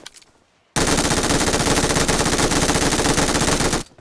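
Sustained automatic gunfire in PUBG Mobile, a loud continuous rapid-fire burst lasting about three seconds after a brief quiet lead-in, then cutting off abruptly.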